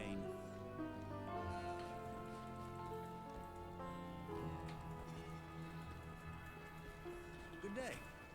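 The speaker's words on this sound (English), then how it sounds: "Desert rain." Rain falling in a desert area of the video game Diablo 2, a steady hiss of rainfall that runs the whole time beneath sustained tonal game music.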